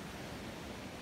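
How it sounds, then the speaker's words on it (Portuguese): A large river, the Rio Salgado at Fazenda Marimbas in Aurora, Ceará, carries transposed São Francisco water with a steady, even broadband rush and no pauses or voices. "E tá aí, um riozão descendo água"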